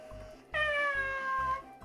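A Little Live Pets Puddin My Dream Kitten electronic toy lets out a single clear, synthetic meow lasting about a second, close and fairly quiet against a soft background, with no talking.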